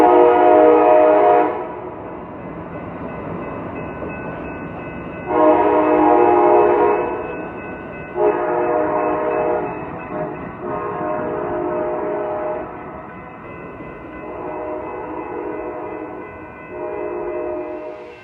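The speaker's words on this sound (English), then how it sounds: "Here comes Amtrak Capital Corridor." Amtrak Capital Corridor passenger train passing through Jack London Square in Oakland, sounding several long loud horn blasts over a steady rumble of rolling cars, with no voices.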